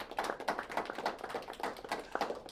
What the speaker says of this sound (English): Give our judges a big round of applause